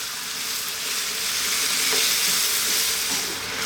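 Minced meat sauce for shepherd's pie bubbles and sizzles steadily in a pan on the stove, a continuous close hiss that swells slightly as it is stirred, with no voices over it.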